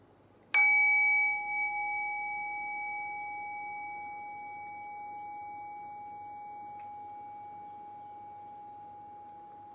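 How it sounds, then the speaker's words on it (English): A meditation bell struck once, a clear bright ding that rings on with a long, slowly fading sustained tone in a quiet room. "I'll ring the bell"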